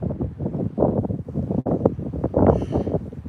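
Strong wind buffets a nearby microphone in loud, uneven gusts, a low rumbling roar that surges and dips throughout.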